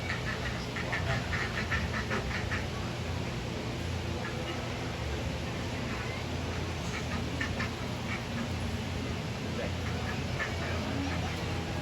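Ducks quack steadily in a dense, overlapping flock as a dog herds them at a herding trial at the Fryeburg fair, with voices talking underneath the constant outdoor noise.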